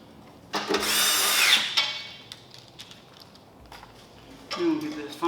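A power drill drives bolts back into an OnFloor OF9S-L treadmill, with one loud whirring burst of about a second, a short second run later, and a person talking nearby.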